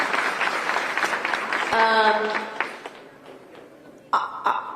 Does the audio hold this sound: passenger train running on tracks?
no